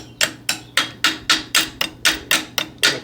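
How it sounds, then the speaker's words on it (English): A hammer taps a greased pin through a track chain link, about eleven sharp, evenly spaced metallic knocks close by, each ringing briefly before the next, with no speech. "see if I can get a little tappy tap action on here"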